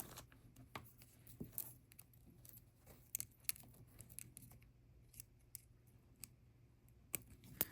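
Sharp scissor snips trimming thin beading wire after a crimp bead is folded, several quick, close cuts scattered among faint handling clicks in a quiet room.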